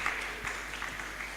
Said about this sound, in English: Let's clap for him as he comes.